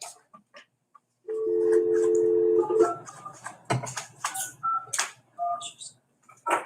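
Touch-tone telephone keypad tones as a call is placed during a salary board meeting, a sustained dial tone followed by a quick series of short beeps, with faint room noise and brief sounds between.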